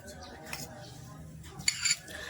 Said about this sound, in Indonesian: Ambil sedikit garam menggunakan sendok